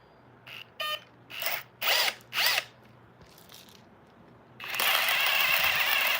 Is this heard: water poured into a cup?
no